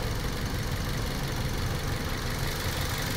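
A warm 2010 Toyota Vios engine idles with air still in its coolant line, giving a faint, steady mechanical hum and hiss without pauses or changes in pace.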